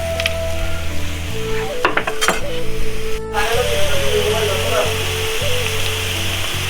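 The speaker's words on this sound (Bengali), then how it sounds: "পেঁয়াজ কাঁচামরিচ আর ধনে পাতা এগুলি ভাজবো" Onions, green chillies and coriander leaves fry in a pan for a Bangladeshi chicken and small potato dish, giving a loud, close sizzle with stirring clatter, and background music plays throughout.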